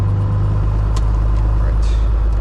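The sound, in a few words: Cessna 182S engine during magneto check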